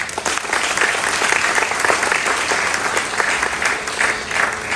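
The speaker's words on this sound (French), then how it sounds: "nous demandons un fort applaudissement à l'équipe de l'USAID" Audience applause for the USAID team at an agricultural technology park launch at a Haitian university, a loud, dense, sustained round of clapping from the crowd.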